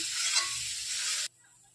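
Soybean chunks and green chili sizzle in hot oil in a pan, a steady bright hiss that cuts off abruptly as the heat drops, leaving near silence.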